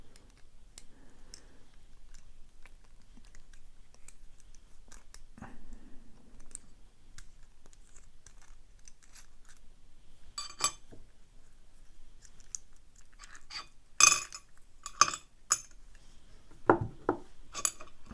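Disassembly of a Master Lock Pro Series 6327 padlock, with an Allen screw and core being removed, gives faint scattered metallic clicks and taps, sparse at first and then clustering into sharper clinks toward the end.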